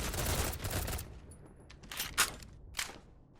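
Gunfire from an army video game, a dense burst of shots in the first second followed by scattered single cracks and short bursts, fairly faint and with no voices.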